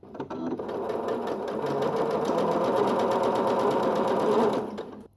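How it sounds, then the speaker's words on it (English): A sewing machine runs continuously for about five seconds, a fast, even mechanical chatter stitching straight twin-needle pintucks on a single layer of fabric, heard close up and alone. "I'm going to start by just doing a straight twin needling."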